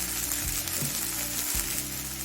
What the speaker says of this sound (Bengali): আলু আর পেঁয়াজটা তিন চার মিনিট ভেজে নিলাম এবার হাফ চামচ দিয়েছি হলুদ গুঁড়ো